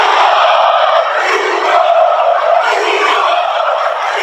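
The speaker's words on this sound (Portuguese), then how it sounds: "a torcida do Flamengo já estava provocando muito o goleiro por causa da falha" Flamengo supporters packed into the Maracanã stadium jeer and taunt the opposing goalkeeper, a loud, sustained crowd roar of chanting and yelling that swells and dips slightly throughout.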